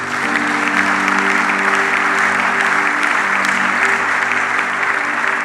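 Church congregation applauding steadily throughout, a dense, loud wash of clapping with no pauses, under a faint sustained low organ-like hum.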